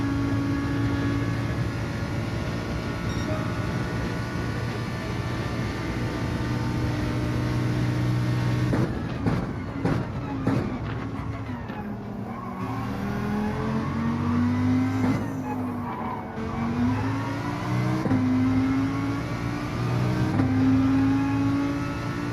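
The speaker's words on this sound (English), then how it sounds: "Lamborghini accelerates out the corners quite well" Lamborghini in Gran Turismo 7 on Trial Mountain reversed, accelerating out of corners: a steady loud engine drone with rising and falling pitch as it revs up through the gears, with brief gaps between pulls.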